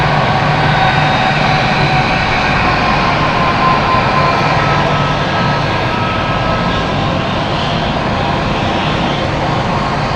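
A Swiss airliner's jet engines roar loudly and steadily at London City Airport, a broad, continuous rumble with a faint whine that holds without a break for the whole stretch.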